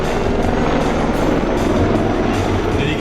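A combat helicopter flies nearby with a dense, continuous rotor and turbine roar that stays loud and steady throughout.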